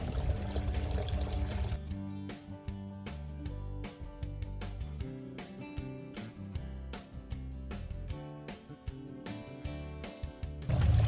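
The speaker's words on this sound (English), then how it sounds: "Might just turn the water up again, just so we can get this first section to clear out." Water rushes through a gold sluice as paydirt gravel is washed. The pouring flow is steady and nearby, broken by a run of quick, rhythmic clattering taps.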